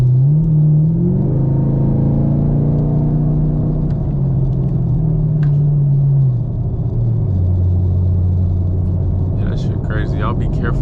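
A Chevrolet Camaro SS cruising on the highway, its engine a steady, loud low drone with slow shifts in pitch as speed changes, wind and road rumble beneath.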